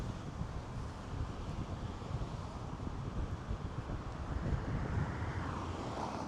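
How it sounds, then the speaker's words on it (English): Steady wind gusting across an outdoor microphone on a city walk from Hollywood to Santa Monica, a constant low rumbling buffet with faint traffic-like hiss beneath and no talking. "It's a little windy here"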